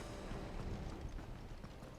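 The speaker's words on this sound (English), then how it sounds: "Look, it's Odin's horse." Rapid clip-clop of horse hooves at a steady run in Final Fantasy XVI, close and fairly loud over a muffled rumbling background.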